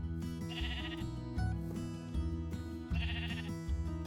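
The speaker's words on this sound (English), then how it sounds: "No, come back here, sheep." Sheep bleating in Minecraft with the ATM 10 modpack, two clear bleats around the first and third second over steady game background music and tones.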